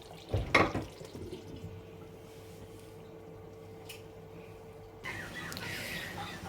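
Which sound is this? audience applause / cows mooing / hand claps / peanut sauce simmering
peanut sauce simmering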